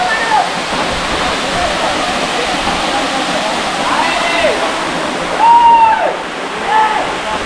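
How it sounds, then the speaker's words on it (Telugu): Gandhari waterfall pours in a steady, broad rush of falling water heard up close, with a voice speaking over the continuous roar. "చూస్తున్నాయా వాటర్ ఫాల్ ఎలా ఉంది?"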